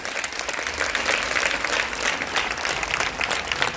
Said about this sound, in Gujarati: એકદમ જોરદાર તાળીઓથી ગામની મહિલાઓને વધાવો.